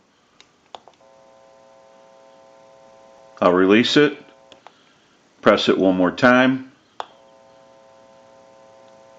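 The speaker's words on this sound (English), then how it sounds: "You may hear a little bit of an electrical hum." A test amplifier connected to a Western Electric 2554 wall telephone under repair gives a steady, faint electrical hum like a dial tone, with a few clicks, dropping out while someone talks close by.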